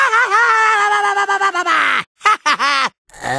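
Crash Bandicoot's cartoonish cries from the video game come as loud, wavering, strained yelps and squeals in quick bursts separated by abrupt silences.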